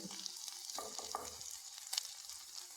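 Ginger and curry leaves go into a hot pan of Kerala-style onion rice, giving a steady, soft sizzle with light stirring scrapes and a brief clink near the end.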